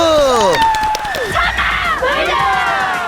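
At a women's amateur football tournament, the crowd cheers loudly for the champion team. High shrieks and whoops mix with applause in a dense, excited roar that stays loud the whole time.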